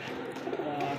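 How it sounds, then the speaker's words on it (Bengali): An Iranian pigeon gives a soft, close, low cooing call lasting about a second. "এটা এমন এক সুন্দর একটা কবুতর"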